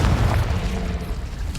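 A Confringo blasting spell explodes in the Hogwarts Legacy video game, a loud, dense boom that fills the whole short moment with a rumbling blast and no talk.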